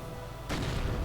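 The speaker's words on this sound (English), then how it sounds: "Mortar rounds flying through the air." Mortar rounds fire in a World War II style strategy video game, a sudden loud boom that rolls into a dense, sustained rumble of battle noise.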